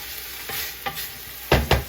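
Lamb browns in a pan under a low, steady sizzle, broken by a few scraping stirs and louder clatters of the utensil toward the end.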